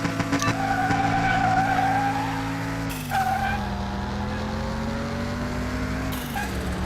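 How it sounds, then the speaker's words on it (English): Car tires spinning and squealing under hard acceleration in first gear, set in Car Mechanic Simulator 2021 during a drag race, with a loud, steady engine roar that shifts pitch at each gear change. "I think I'm spinning the tires too much on that first gear."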